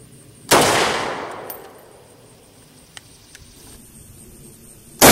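A 7.62x51 rifle round fired into a Midwest Armor Guardian IV ceramic body armor plate gives one loud, sharp shot with a long decaying tail, a few faint clicks and a second sharp impact-like burst at the end.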